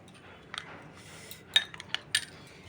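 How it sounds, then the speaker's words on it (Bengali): A metal spoon stirs and taps against a bowl while batter is mixed for chilli paneer. A few scattered light clinks and scrapes fall against a quiet background. "চামচ দিয়ে এটা ভালো করে একটু গুলে নেব"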